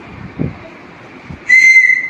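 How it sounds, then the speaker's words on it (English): A shrill whistle blown once in a school classroom setting, a loud steady tone held for about half a second near the end, preceded by faint bumps and room noise. "Can you hear it? What it is? Whistle."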